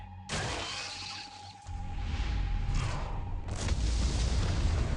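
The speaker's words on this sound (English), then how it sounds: "Looks like fireworks are going off in the ant tunnels." Explosions in the ant tunnels in the video game Solo Leveling: Arise: a loud, sustained rumble of overlapping booms and blasts that builds after a sharp onset, with a second heavy burst swelling near the end.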